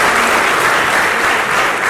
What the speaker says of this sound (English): this deserves a louder round of applause